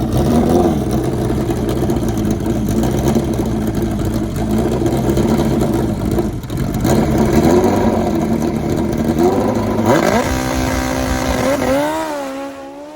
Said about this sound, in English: Nice leave, hitting that air shifter. Down track, he's going to run it all the way to the quarter-mile mark.